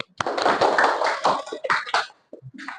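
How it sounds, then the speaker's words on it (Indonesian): Students in a classroom lesson clap briefly, a short burst of scattered hand claps close by that trails off into a few soft taps and small noises. "Oke, tepuk tangan"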